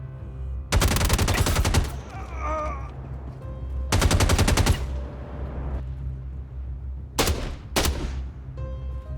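Rapid automatic gunfire from a first-person ground combat video game rings out in three loud bursts, the later ones shorter, with echoing tails between them and no talking.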